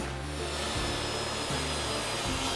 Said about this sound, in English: I'll rip it down on the table saw